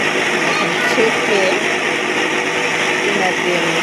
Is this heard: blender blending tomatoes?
yes